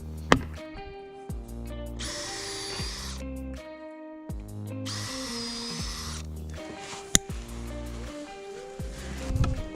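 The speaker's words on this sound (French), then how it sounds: "je vais faire 2 trous à la perceuse pour pouvoir accrocher avec un fil de fer" An electric drill bores two holes so wire can be attached, running in two steady bursts of a few seconds each with clunks and handling knocks between them, close and loud, no voices.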